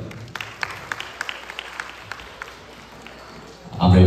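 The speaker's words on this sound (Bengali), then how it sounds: "চলুন আরও একবার সবার জন্য জোরে একটি করতালি" Scattered hand claps from an audience at a Bengali New Year stage celebration, sparse and mid-distance, then a sudden loud, dense burst near the end.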